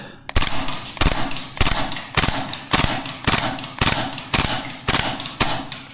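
Maruyama SPC-9 gas blowback airsoft rifle firing BBs, a rapid run of about a dozen loud, evenly spaced cracks with bolt clatter, close and alone.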